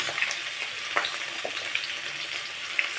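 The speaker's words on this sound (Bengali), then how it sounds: "এখন এই সবজিগুলো একটু ভেজে নিলাম" Chopped vegetables (kohlrabi, potato, flat beans and green beans) sizzle steadily in a pan for khichuri, a continuous bright hiss with small pops and no voices.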